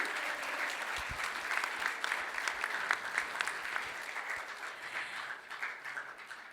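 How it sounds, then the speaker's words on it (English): Audience applause at an Indonesian Independence Day diplomatic reception in Sydney, continuous clapping with scattered sharper claps that holds steady for several seconds, mid-distance and unaccompanied by talk. "Can I hear a big round of applause once again?"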